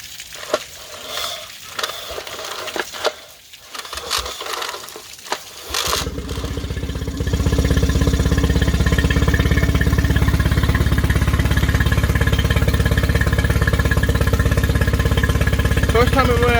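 A Mercury 20 HP outboard motor, run without a working choke, cranks with a few short rough bursts and then catches, settling into a loud, steady, close-up running drone that continues to the end.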